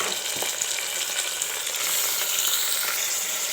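Onions and mutton frying in a pan for a village-style mutton curry, giving a steady, close hiss and crackle of sizzling that runs unbroken with no voices.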